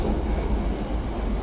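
The Turangga Panoramic passenger train rolls along its rails with a dense, steady rumble and rattling roar that holds at an even level throughout, with no voices.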